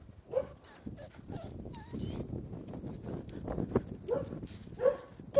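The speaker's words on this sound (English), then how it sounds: "Just a dog. Bark at you." A dog on an outdoor walk barks a few short times at scattered intervals, moderately distant, over footsteps and background movement.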